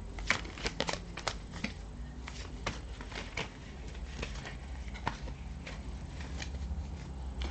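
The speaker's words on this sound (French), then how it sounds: "je vais tirer les cartes pour avoir plus de précision pour vous" Tarot cards are shuffled and drawn in quick, rustling flicks and taps, close and fairly quiet, with no talk.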